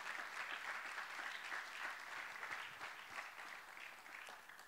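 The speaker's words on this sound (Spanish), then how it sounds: "¿Habrá alguien aquí que le dé un aplauso de gloria y de bendición?" A church congregation claps together in sustained, even applause, a dense wash of many hands filling the hall at moderate distance without voices on top.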